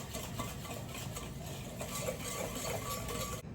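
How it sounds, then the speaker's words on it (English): Sugar and butter being whisked together for peanut butter cookies, a steady, continuous scraping whir that runs close and fairly loud for the whole stretch with no talking. "I'm gonna whisk the sugar and the butter together."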